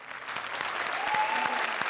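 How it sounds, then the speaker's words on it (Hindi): Studio audience applause on a comedy show for performers Kapil and Parvati, a dense, even wash of clapping from start to finish, moderately loud and without talk. "दोस्तों एक बार जोरदार तालियां कपिल और पार्वती के लिए"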